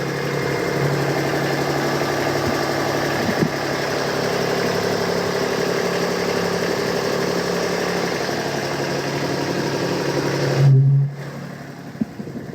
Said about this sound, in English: You can see the engine running here.